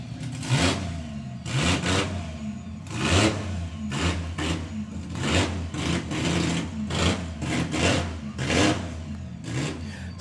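A drag racing car engine at a drag strip meet revs hard in rapid, rasping bursts, rising and cutting repeatedly, loud and fairly close, with a rough pulsing roar throughout.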